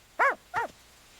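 Two short whimpering yelps from a lost puppy, close and fairly loud, with a brief pause between them and no other sound around.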